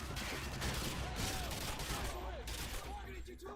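Gunfire in Call of Duty: Modern Warfare 2, a rapid fusillade of shots and firefight noise at moderate distance, with voices talking briefly over the shooting.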